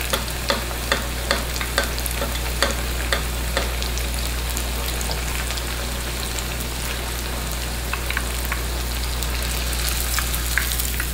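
Chicken browning in oil in a pan for chicken Mexicali, giving a dense, even sizzle with scattered crackling pops over a steady low hum, close by and unbroken by speech.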